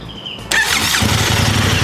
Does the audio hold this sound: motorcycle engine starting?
yes